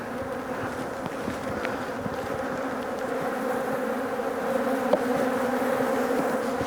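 Honeybees from a very strong hive buzzing steadily and densely at close range as the opened brood boxes are worked, a continuous droning hum with no talk.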